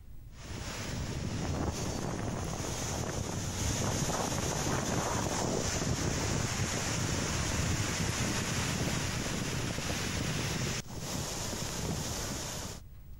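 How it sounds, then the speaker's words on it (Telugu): The Munneru river at Khammam, swollen by upstream rains, rushes in flood with a loud, continuous broadband roar. It keeps up steadily, much like surf or wind, with a brief dip near the end. "ఎగువన కురుస్తున్న వర్షాలతో ఖమ్మం మున్నేరు నది ఉధృతంగా ప్రవహిస్తోంది."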